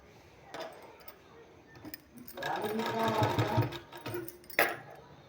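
A sewing machine stitches a folded sleeve design in short stop-start bursts, the longest run in the middle, with faint clinks and handling sounds between them.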